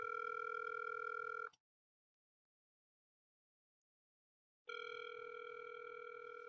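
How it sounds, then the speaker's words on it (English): Phone call ringing out on speakerphone: a steady tonal ring for about a second and a half, a gap of silence, then the ring starts again, close and clear with no talk. "I'm kidding, I'm calling him."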